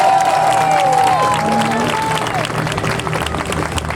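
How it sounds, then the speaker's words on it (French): A crowd at an outdoor solidarity march in Québec claps and cheers for young people, dense and loud, with shouting voices and talk mixed through the noise. "On applaudit les jeunes d'être là."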